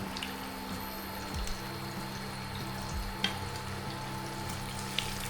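Beef sizzles steadily in a pan with chilies, a continuous soft frying hiss with occasional faint stirring clicks and clatters, low in level and without voices.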